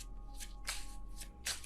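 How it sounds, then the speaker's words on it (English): Tarot cards are shuffled by hand during a reading, giving soft, close riffling bursts in an uneven rhythm over a faint steady background hum. "I feel like that was a little bit of a bad shuffle"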